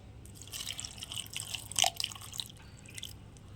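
Water poured or dripping into a blender jar with mint leaves and pomegranate seeds in a home kitchen, a soft splashing trickle with a brief louder burst of drops midway, close and alone without talk.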